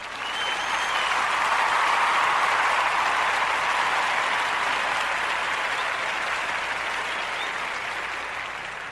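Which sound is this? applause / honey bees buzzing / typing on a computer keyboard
applause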